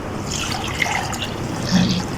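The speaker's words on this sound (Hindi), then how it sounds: "मैं पानी भी डालती हूँ परिंदों को" Water poured out for birds, a steady splashing trickle close by with a brief swell near the end, no talking.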